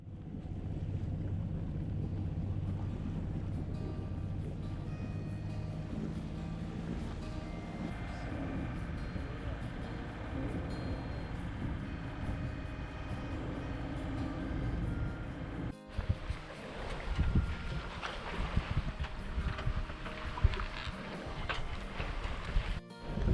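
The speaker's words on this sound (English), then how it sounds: "Beautiful day to sail with 8 to 10 knots of wind from the west taking us southbound." Wind of 8 to 10 knots blows while a sailboat heads south through the Swedish archipelago, heard as a constant rushing roar with water wash and gusty buffeting toward the end.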